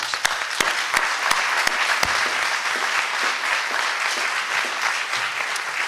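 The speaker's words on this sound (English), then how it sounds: "They deserve a round of applause." Audience at a gala breaking into sustained applause, a dense steady wash of many hands clapping with a few sharper nearby claps standing out early, loud and continuous throughout.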